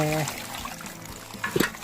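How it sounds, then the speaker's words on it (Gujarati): Patra (colocasia) leaves are rinsed in water, giving a quiet, close trickle with a small splash near the end and a faint voice at the start. "સૌ પ્રથમ તો આ માટીવાળા હોય ત્યાંને ધોવું પડે છે તો આપણે પાંદડાને ધોઈ નાખીએ"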